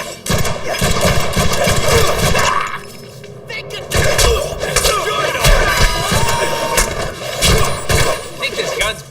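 Gunfire rattles in the Deadpool video game, repeated bursts and single shots alternating with pauses, loud and close, with game character speech in between.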